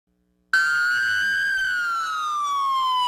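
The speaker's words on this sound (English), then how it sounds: "The sound of 100 police sirens took over the main drag through Rolla" A single loud police siren wails steadily after a brief silence, its pitch slowly sliding downward, with rich harmonics and no voices, in a procession of 100 police cars in Rolla.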